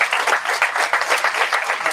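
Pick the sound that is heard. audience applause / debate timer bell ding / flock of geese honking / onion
audience applause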